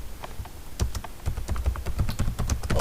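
Steady run of computer keyboard keystrokes as a switch command is entered during network configuration, close and fairly loud with quick irregular rhythm, no voices.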